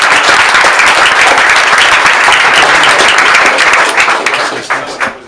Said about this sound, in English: Let's give a round of applause for James